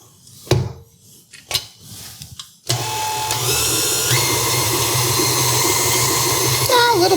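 After a few knocks and taps on a bowl, a stand mixer with a scraper paddle starts up and churns blueberry muffin batter in a steady, loud whirring drone that continues to the end.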